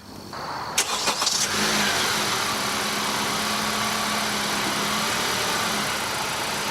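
A 2015 Honda Accord engine cranks and catches after a few quick clicks, then settles into a steady close idle that holds alone to the end.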